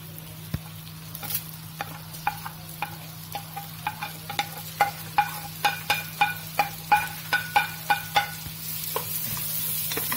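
Onions frying in a pan for a spaghetti dish, stirred with a utensil: steady soft sizzle underneath a run of rhythmic scraping strokes that grow louder toward the middle, close and alone without talk.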